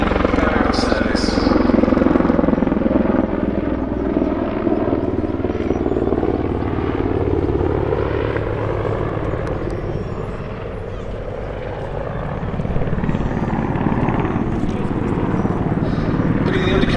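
A Czech Air Force Mi-24 Hind attack helicopter flies at an airshow at Duxford, its heavy rotor and turbine roar loud and sustained, swelling and easing slightly as it passes, with a commentator talking over it.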